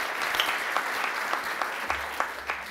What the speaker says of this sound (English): Give them a round of applause, please.